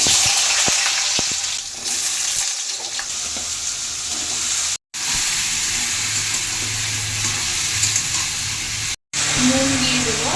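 Potatoes frying in hot oil for aloo posto, a continuous close sizzle and hiss with faint stirring, briefly cut by two short dropouts.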